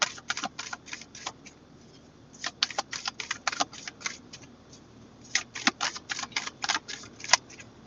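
Quick bursts of cards riffling and snapping, several shuffles in clusters with short pauses between, close and crisp with no talking.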